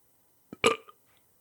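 A single short burp, close and fairly faint, preceded by a small throat sound in otherwise quiet surroundings.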